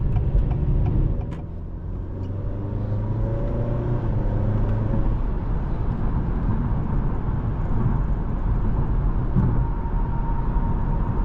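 A 2021 Acura TLX sedan with a 10-speed automatic cruising, heard from inside the cabin as a steady, smooth low rumble of engine and road noise that stays even throughout, with no one speaking.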